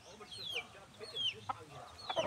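Chickens clucking around a tall homemade wooden tipi perch, several short, faint calls and squawks scattered across a quiet background, one louder burst near the end.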